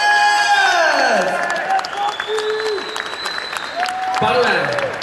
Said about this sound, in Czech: poprosím o bouřlivý potlesk pro hlavní zápasníky